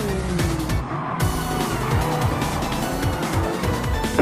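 First-generation Corvette driven in a racing video game, engine roaring steadily with tire squeal and skidding throughout, loud and close with no talk.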